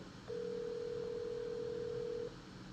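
Phone in a video game sounding one steady, flat tone for about two seconds over a quiet background hiss, with no voices.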